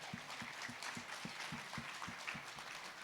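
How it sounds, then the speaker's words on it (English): Sparse applause at an annual awards luncheon, with a few distinct, rhythmic nearby claps standing out over a fainter background of clapping from the room. "Let's give them a round of applause."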